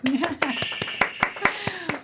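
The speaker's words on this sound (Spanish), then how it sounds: "¿Aplausos?" Scattered hand claps from a small group in a podcast studio, about ten distinct sharp slaps spaced unevenly over two seconds, with a voice speaking beneath them.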